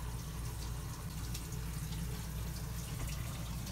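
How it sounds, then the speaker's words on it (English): Water running through a repaired water valve on a Dometic RV toilet, a steady, even hiss and trickle that holds at a constant level throughout, close by, with no voices. "we got water going through there"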